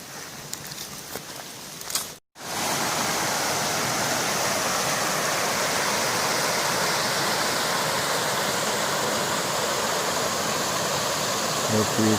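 River water rushes steadily in a broad, continuous roar in Somerset, with a brief gap near the start and no talk over the flow.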